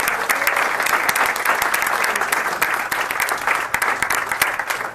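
Applause at a school board of education meeting honours high school boys' tennis doubles champions: many hands clap in a brisk, crackling stream with sharp individual claps standing out, sustained and fairly loud from start to finish.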